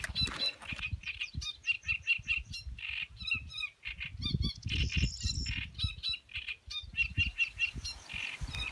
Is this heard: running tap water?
no